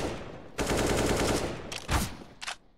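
Rapid automatic gunfire in a shooter video game, a sustained burst of closely spaced shots followed by a couple of sharp, separate shots and a short trailing burst.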